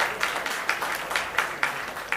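Brief audience clapping at a film festival event in Toronto, a soft wash of applause with a few sharper claps standing out, moderately distant.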